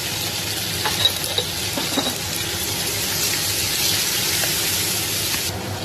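Cooked rice stir-fried with salt in a pan makes a steady close sizzle, with scraping and stirring clinks from a utensil throughout and no talking.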